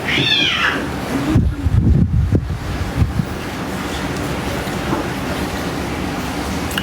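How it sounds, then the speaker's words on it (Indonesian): A hairless cat gives one short, clear meow at the start, followed by rustling handling noise and a steady windy background rush. "Kucing, bogel."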